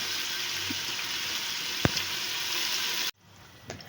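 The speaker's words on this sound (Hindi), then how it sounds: "जो हमने प्याज कटिंग की हुई थी उसको हमने ऐड कर लिया है और इसको हम लाइट ब्राउन होने तक फ्राई करेंगे" Chopped onions sizzle steadily in hot oil as they fry toward light brown, a close, even crackle with one sharp utensil knock, then the sizzle drops away to near quiet at the end.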